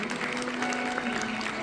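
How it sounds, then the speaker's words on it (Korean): Wedding guests applaud at a Korean wedding reception as the bride and groom bow to their parents, steady, dense clapping filling the room throughout with a faint murmur underneath. "여러분의 큰 응원의 박수를 부탁드리겠습니다."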